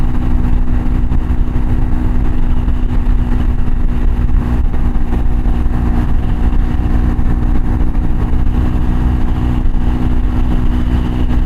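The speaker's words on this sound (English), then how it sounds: "It's amazing how stable this little bike is at higher speeds." A Triumph Scrambler 400X motorcycle with a 15-tooth sprocket cruises at high speed around 70 mph and 6,000 rpm, a steady, loud engine drone mixed with constant wind rush, unbroken for the whole stretch.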